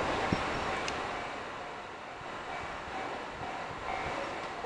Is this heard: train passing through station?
yes